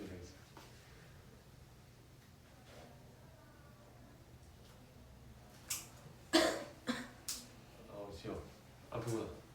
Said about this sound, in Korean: 오래 가는 것 같아 기침이